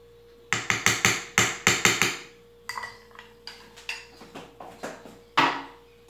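A spoon taps and scrapes repeatedly against a baking pan while oat bran and apple cake batter is cleared off it, a quick run of sharp, close knocks, then a looser scattering of lighter taps and one final strike.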